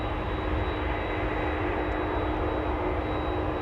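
A KLM airliner departing Los Angeles International Airport, heard as a steady, broadband jet engine roar that stays loud and even throughout, with no voices.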